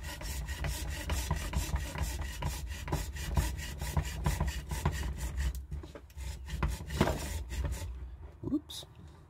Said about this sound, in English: I'm going to saw down to the cross line.